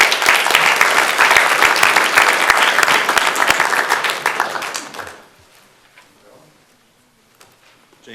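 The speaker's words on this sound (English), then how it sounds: "So if everyone could please give them one more round of applause." Applause from a city council meeting audience honoring an elementary student, dense and steady clapping for about five seconds before stopping abruptly, leaving a quiet room with faint stray sounds.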